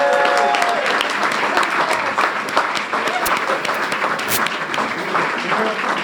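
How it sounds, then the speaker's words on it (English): Audience applause for an inaugural graduating class, loud sustained clapping from a crowd with a few cheers mixed in, holding steady throughout, with brief voices audible near the start. "can we put one final round of applause together for our inaugural class"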